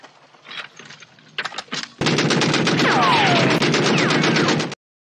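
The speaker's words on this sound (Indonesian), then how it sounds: "Pria-pria dari suku Baduy yang masih hidup langsung dibariskan untuk ditembak mati." Sustained automatic gunfire from a firing-squad execution in a war film about Italian fascist forces in Libya, preceded by scattered shots that build into a loud, continuous rattling burst lasting several seconds before cutting off abruptly.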